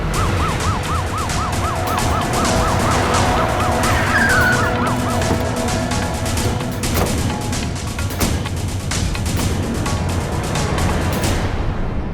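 Wailing police siren sweeps up and down loudly near the start, then fades as the car pulls away, leaving a dense background of traffic and street noise.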